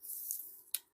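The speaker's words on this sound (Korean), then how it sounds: "선을 잘라줍니다." Scissors cutting along a pattern line while making jeans, a steady crisp shearing stroke ending in a sharp close-up snip, alone without talk.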